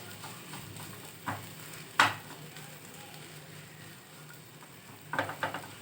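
Eggs stir-fried in a pan for street-style anda bhurji, with a soft steady sizzle and a few sharp spatula scrapes and taps against the pan, heard faintly and close.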